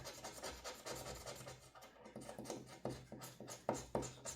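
A coin scratches the latex coating off a scratch-off lottery ticket in quick, close rubbing strokes, a steady rasp with sharper scrapes near the end and no talking.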